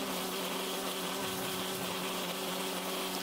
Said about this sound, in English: A lot of noise from tape or something in the car.